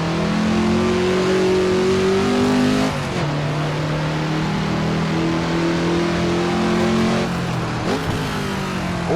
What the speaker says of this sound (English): really disappointed by the engine sound actually. It sounds like a 4-cylinder.